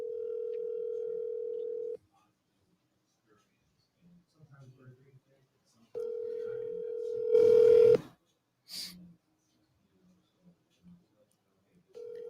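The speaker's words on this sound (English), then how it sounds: "Let's call her again." Telephone ringback tone heard while placing a call, two long steady buzzes a few seconds apart with a third starting at the end, quiet talk in the gaps.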